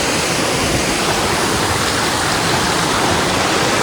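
Spring water rushing steadily over a village watercourse, a loud continuous broadband wash with no breaks and no voices.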